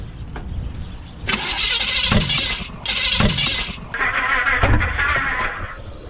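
A 1928 Ford Roadster engine cranks and sputters, catching in rough bursts and revving unevenly, loud and close.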